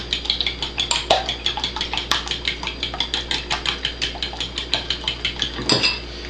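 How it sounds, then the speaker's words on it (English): A fork beats four eggs in a bowl, making a quick, steady run of close metallic clinks against the dish that lasts throughout with no talk. "So we got 4 eggs in there. We're gonna stir them up. Get a good mix on those."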